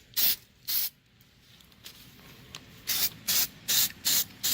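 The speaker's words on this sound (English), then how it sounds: "Go ahead and spray the inside really nice." Spray paint hisses from an aerosol can as the inside of an object gets coated: two short bursts, a pause, then five quick even bursts in a row, close and sharp.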